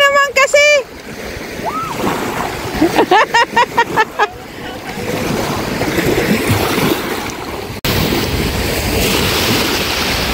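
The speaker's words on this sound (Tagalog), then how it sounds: "Ang lakas ng alon na." Surf washing onto a Lake Huron beach at Kincardine, a steady broadband roar of waves with wind buffeting the microphone, while someone shouts and people talk over it near the start.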